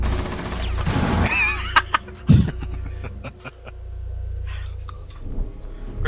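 Gunfire in the Rainbow Six Siege video game, with a dense burst of shots early on followed by scattered sharp single cracks and clicks over a steady low game hum.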